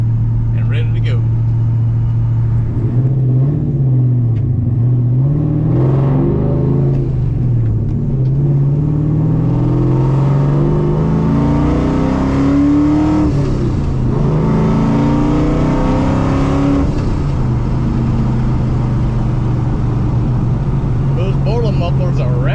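A 1997 Mustang GT with a 2-valve V8 and rowdy mufflers rumbles loudly at close range, its deep exhaust note rising and falling through several revs, with talking mixed in throughout.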